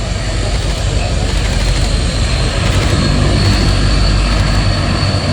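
A Dassault Atlantique ATL2 maritime patrol aircraft with Rolls-Royce Tyne turboprop engines roars loudly and steadily at an air show, a constant dense drone with no break.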